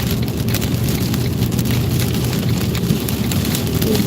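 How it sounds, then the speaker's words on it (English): A severe thunderstorm in Kentucky, with heavy rain and hail pounding steadily and loudly on a vehicle, a dense, continuous roar without speech. "Intense, severe storm. There's some hail."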